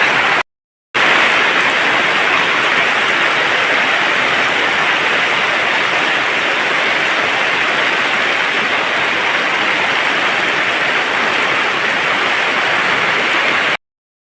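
Heavy rain pours down in a loud, dense, unbroken roar that continues evenly throughout, cut only by a short silence near the start, with no voices.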